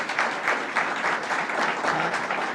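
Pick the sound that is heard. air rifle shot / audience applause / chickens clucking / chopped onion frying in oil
audience applause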